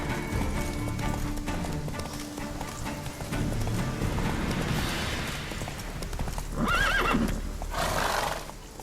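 A horse gallops in The Witcher 3: Wild Hunt, with steady rapid hoofbeats, snorts and a whinny over busy game ambience and music, loud and continuous.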